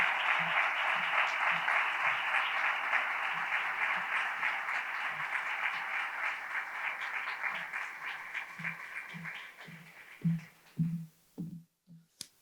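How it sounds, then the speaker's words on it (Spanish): Warm audience applause at a ceremony naming an official chronicler in a hall, steady clapping from a seated crowd that thins out into scattered individual claps before stopping. "Vamos a recibirle con el cariñosísimo aplauso que se merece"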